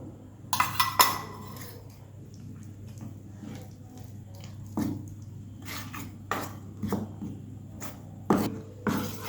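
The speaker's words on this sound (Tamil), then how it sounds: "க்ரீமை அந்த பிஸ்கட் கூட நம்ம போட்டு அதையும் சேர்த்து நல்லா மிக்ஸ் பண்ணணும்" A spoon works cream into powdered Bourbon biscuits and milk in a bowl for a cake, giving scattered clinks and knocks against the bowl between soft scraping and stirring, close and moderately quiet.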